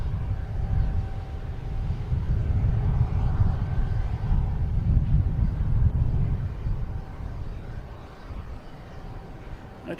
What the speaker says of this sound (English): Japan Airlines on the roll at 787-900, heading back to Tokyo.